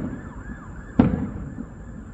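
Fireworks bursting over a ballpark stadium at night, a single sharp distant boom with a short echo over a quiet background hum.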